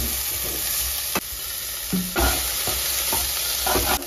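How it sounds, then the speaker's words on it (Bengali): Potatoes and onions fry in mustard oil, a constant close sizzle broken by several distinct scraping stirs of a spatula across the pan. "পেঁয়াজ একটু ভাজা ভাজা হয়ে গেছে, এবার আলুটাও দিয়ে দেবে।"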